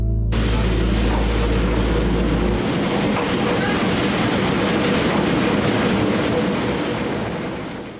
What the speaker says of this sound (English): we boarded the Transalpine train back to Christchurch